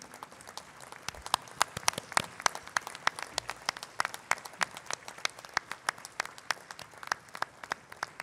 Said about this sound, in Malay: kita berikan tepukan paling gemuruh kepada mereka